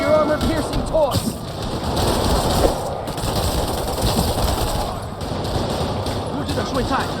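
Dense, sustained gunfire in the video game Spider-Man Remastered, rapid volleys of shots forming a continuous rattling barrage that stays loud for the whole stretch.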